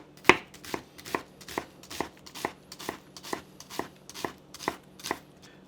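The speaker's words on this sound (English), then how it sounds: "So for onions, we're just going to slice straight down, then across." A knife slices through two medium white onions on a cutting board, giving about a dozen crisp, evenly spaced chops that land close and clear with a steady rhythm, with no voices over them.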